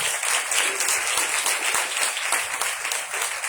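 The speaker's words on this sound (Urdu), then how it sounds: "آئیے یسوع کے جلال کے لیے زوردار تالیاں کریں۔" A church congregation breaks into loud, sustained applause, a thick and even wash of many clapping hands that carries on for several seconds without any clear voice over it.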